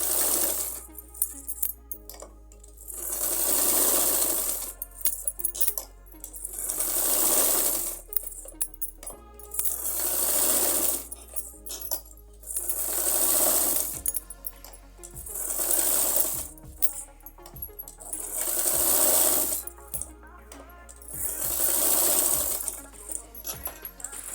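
Sewing machine stitches a design across a pahuncha cuff in repeated loud bursts of rapid stitching, separated by brief pauses and light clicking handling of the fabric.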